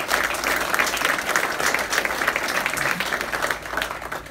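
Audience at an ALS charity golf outing speech applauding, a dense, steady burst of many hands clapping that carries on for several seconds with little talk over it.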